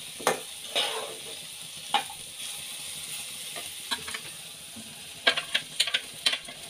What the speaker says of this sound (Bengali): মশলাটা দেওয়ার পর আমি আবারও এটাকে ভালোভাবে মিশিয়ে নিব।